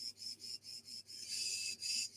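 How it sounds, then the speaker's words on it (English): Crickets chirp in a steady pulsing rhythm, faint and distant, with no other sounds. "Oh, you can hear the crickets, Pete."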